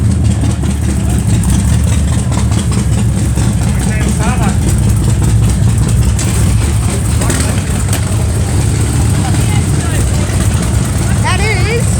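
A motorcycle engine idles steadily at an outdoor street car show, a constant low rumble running throughout with crowd chatter and voices over it.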